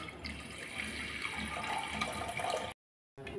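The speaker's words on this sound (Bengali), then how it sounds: "এখন প্রেসারে আমি ডালটাকে সিটি দিয়ে নেব। দিয়ে দিচ্ছি জল।" Water poured from a tap or vessel into a pressure cooker on a gas stove, preparing to boil rajma; a steady close splashing stream runs for nearly three seconds, then cuts out briefly before resuming.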